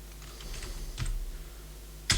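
Computer keyboard typing a terminal command, scattered soft key clicks close by, ending in a louder burst of keystrokes.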